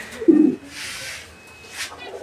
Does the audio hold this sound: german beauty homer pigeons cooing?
yes